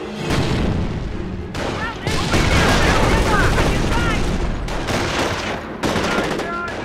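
Dense bursts of rapid gunfire and booming blasts crackle almost nonstop in the video game Company of Heroes, with a few brief pauses and faint voices mixed into the chaotic battle noise.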